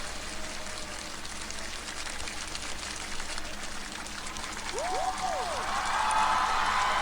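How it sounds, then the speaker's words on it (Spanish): Audience and musicians applaud the singer after his performance, a dense, rain-like patter of clapping that stays fairly faint and distant and swells slightly toward the end, with a brief tonal sweep in the middle. "Hasta los músicos le aplauden."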